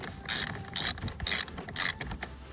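A ratchet clicks as it loosens a 10mm battery terminal nut on an Audi S3 8P, four bursts of close, crisp pawl ticking in a steady back-and-forth rhythm, with no speech.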